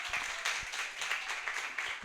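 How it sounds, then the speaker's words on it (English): Audience applause for a poet at an open mic night in a creative cafe, a brief, moderately distant patter of clapping hands sustained evenly for a couple of seconds. "can we please give him a round of applause?"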